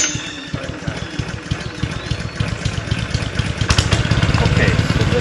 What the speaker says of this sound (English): this is a Clausen core mechanical aerator